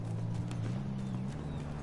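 A horse galloping in the World War I shooter Battlefield 1, rapid rhythmic hoofbeats over a low droning engine-like hum, steady and moderately close.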